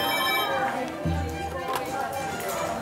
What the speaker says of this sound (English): It's a ring like no other phone that I've heard.